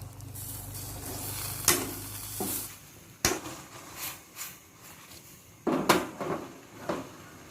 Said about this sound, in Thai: ใส่เส้นสปาเกตตี้ลงไป ผัดต่อนะครับ